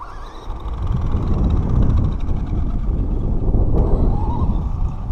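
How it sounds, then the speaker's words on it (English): A Traxxas Stampede RC truck runs with a dense, continuous motor and drivetrain rumble, fairly loud and close, with a faint repetitive clicking mixed in and no talk. "Making like a clicking noise, and it seems like every time I run this truck it gets louder and louder."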